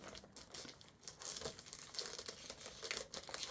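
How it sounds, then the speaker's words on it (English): Cellophane wrapping on a chocolate box is cut and torn off, heard as close, quiet bursts of crinkling, rustling and tearing that come in irregular rapid spurts, with no talking. "just basically taking the cellophane off"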